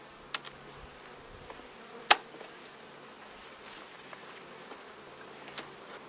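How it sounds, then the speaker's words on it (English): Bees hum faintly inside a homestead beehive, a soft continuous drone with a few sharp clicks and taps scattered through it. "There's a lot of bees in here."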